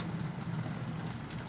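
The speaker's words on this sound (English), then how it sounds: "Well, I hope y'all hear the rain." Rain falling outdoors as a steady, dense wash of hiss with a low rumble underneath, continuous and fairly loud through the whole moment.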